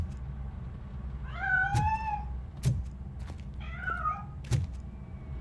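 Cat meowing in the RoboCop: Rogue City video game: two drawn-out, wavering meows close by, separated by soft thumps and knocks over a low game-world hum, with no talk.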